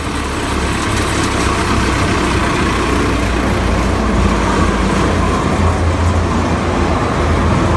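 A Salsco wood chipper engine idling steadily at lowered RPM, a constant loud, low droning rumble with no break throughout.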